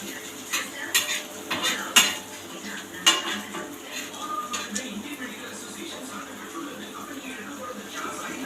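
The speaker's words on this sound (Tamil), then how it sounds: "கொஞ்சம் கிண்டுடா" A spoon stirs food in a cooking pot in a home kitchen, scraping and clinking against the metal in a few uneven bursts, then quieter rubbing, with soft talk nearby.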